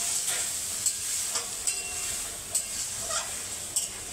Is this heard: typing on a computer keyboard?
no